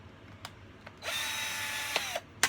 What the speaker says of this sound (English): it sealed it, but it left a hole, so I had to drill that out